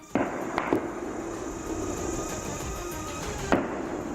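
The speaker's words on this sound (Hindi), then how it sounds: "दोनों ओर से ताबड़तोड़ फायरिंग की आवाजें सुनाई पड़ी।" Gunfire exchanged between security forces and militants, heard as a few sharp distant reports, one near the start, a couple soon after and another later, over steady outdoor background noise.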